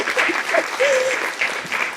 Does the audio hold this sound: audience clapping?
yes